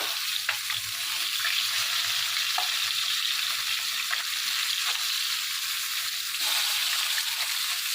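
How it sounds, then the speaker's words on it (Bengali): Bhagna fish frying in a pan after being turned over, a steady close crackling sizzle that runs continuously for the whole stretch, with a few faint clicks of utensils and no talking. "মাছটাকে উল্টিয়ে এখন এই পিঠটা একটু ভেজে নিব।"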